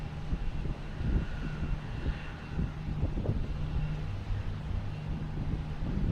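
A Spirit Airlines airliner departs Boston Logan Airport with a moderately loud, rumbling engine roar that swells and pulses slightly over a few seconds.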